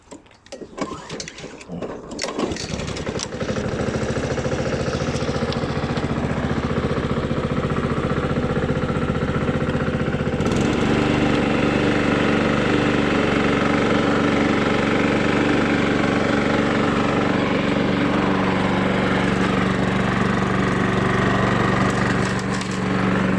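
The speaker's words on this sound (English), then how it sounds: "So it's a nice clean lawnmower, self-propelled, and I shall try and start this one handed." An Ibea self-propelled petrol lawnmower with a 16-inch cut and Honda GCV135 engine is pulled into life after a few rough tugs, then settles into a loud, steady running drone close by, rising slightly in pitch midway.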